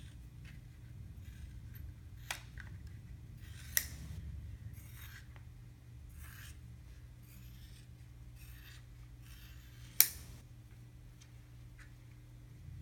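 Scissors trim the edge of a thermoplastic thumb CMC and MP orthotic, giving a few sharp, quiet snips spaced seconds apart over a low steady room hum.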